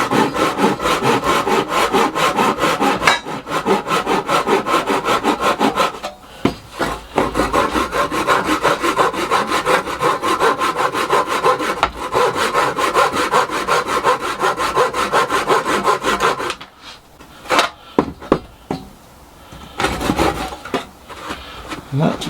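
A bandsaw rasps continuously through a wooden log, loud and close, with brief pauses and a few short stop-and-start cuts near the end.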